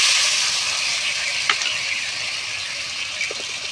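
Spice paste mixed with water hits a pan of frying pomfret fish, giving a steady, close sizzle with faint stirring clicks throughout.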